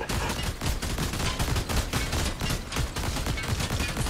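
Dense, sustained gunfire from Deep Rock Galactic, a rapid barrage of overlapping shots with steady rhythmic bursts that stay loud and continuous throughout.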